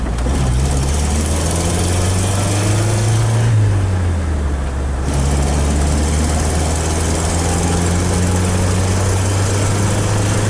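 A 1993 Jeep engine, driven without the clutch, holds a loud, steady low rumble throughout, with its pitch shifting and dipping briefly midway as the throttle changes, no voices present.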